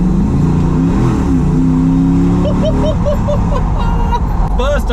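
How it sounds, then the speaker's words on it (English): A Range Rover restomod with a 470-horsepower naturally aspirated V8 rises and falls in pitch as it revs through a roundabout, its droning engine note heard from inside the cabin under someone talking. "470 horsepower, naturally aspirated V8 in this thing"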